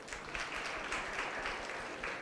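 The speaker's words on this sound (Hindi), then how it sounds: "बहुत बहुत इनके लिए ताली बजाइए प्लीज साहब" A seminar audience of college students applauds a speaker: a dense, steady patter of many hands clapping at once, close and fairly loud, holding evenly for about two seconds with no voices over it.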